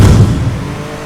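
A Porsche engine revs in the racing game Midnight Racing Tokyo, a loud, brief throaty roar that starts strong and then eases into a fading drone.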